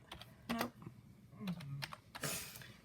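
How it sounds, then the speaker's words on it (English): Clicking keystrokes on a computer keyboard, tapped in short irregular bursts with pauses between them, recorded fairly close in a quiet room with a faint murmur in the background. "So what are you typing?"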